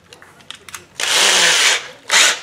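Power drill with a small 1/16 inch bit boring into a duckling lure: a few faint clicks, then a loud whirring burst of under a second, a short pause and a second brief burst, close up and with no talk.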